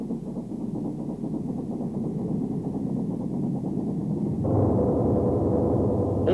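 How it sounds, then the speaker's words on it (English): An ex-Great Western Railway steam tank engine hauls a DMU at Birmingham Snow Hill station, a steady low rumbling engine drone that swells louder and deeper partway through, with no voices over it. "this ex-Great Western Railway's tank engine hauling a DMU at Birmingham's Snow Hill"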